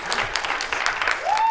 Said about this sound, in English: don't clap for this